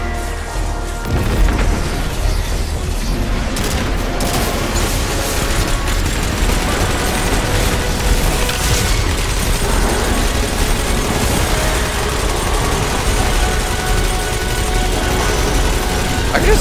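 A grenade explosion in the shooter game Destiny 2 booms amid continuous dense gunfire and mechanical game effects, loud and sustained throughout the battle.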